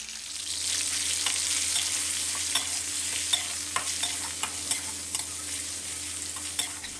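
Continuous sizzling of pork stir-frying in a hot pan, with repeated scraping and clinking of a spatula against the metal, no voices.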